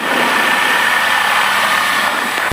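Twin engines of a Diamond DA42 aircraft idling while warming up before taxi, a steady, loud, even drone with no talking.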